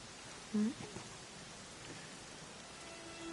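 Steady rain hisses in a Dragon Quest XI game scene, a dense, even wash of falling water throughout, with one short tonal blip near the start.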